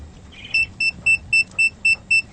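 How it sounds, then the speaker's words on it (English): A carbon dioxide meter sealed inside a face mask gives seven short, evenly spaced high-pitched beeps over a faint muffled background, with no talking. "It's beeping, which means it's telling me that it's at a dangerous level."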